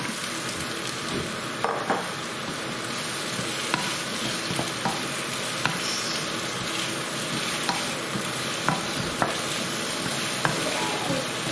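Softened onions and added peppers sizzle steadily in a pan for a chicken rogan josh, with a spoon stirring and scraping now and then, close and continuous, no talking.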